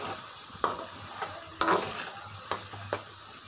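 Mutton pieces frying in oil for chutney, with a soft steady sizzle broken by several sharp scrapes and clinks of a spoon stirring against the pan.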